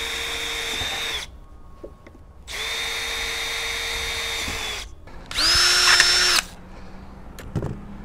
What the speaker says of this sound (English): you must get the holes drilled in